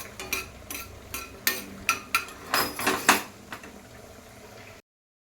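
Coriander frying on low heat in a pan for a pea and cauliflower gravy, with a spoon clinking and scraping the pan in a dozen or so sharp strokes over a soft sizzle before the sound cuts off.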